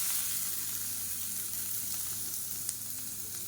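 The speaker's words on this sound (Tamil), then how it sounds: "பூண்டு வந்து வறுக்கணும்" Garlic cloves fry in oil in a kadai with a steady, dense sizzle that stays close and fairly quiet throughout, with no voices.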